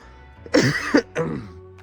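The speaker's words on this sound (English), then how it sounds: "I can't stop coughing" Two bursts of harsh coughing close to the mic, a short one then a longer fit, separated by a brief pause.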